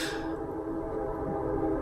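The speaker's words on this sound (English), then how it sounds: "You may hear the train in the background as I'm recording right now." A nearby train sounds its horn in one loud, steady, sustained tone with a rumbling low end, holding without a break for the whole short stretch.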